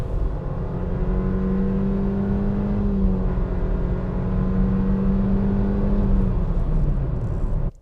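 A 2021 Nissan Versa S engine drones under hard driving through a corner, a steady sustained whir with slight pitch rise and fall, loud and close inside the cabin.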